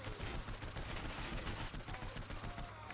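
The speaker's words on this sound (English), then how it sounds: "Let me take out my submachine gun and shoot you first." Rapid submachine gun fire in Saints Row 4, a dense continuous stream of loud, close shots running through the whole stretch with no pauses.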